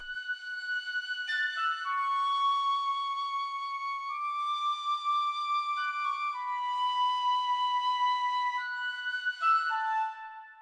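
An orchestral sustain melody of long legato notes is broken up by quick short staccato flourishes, a few clipped accents punctuating the smooth line, played cleanly with no voices.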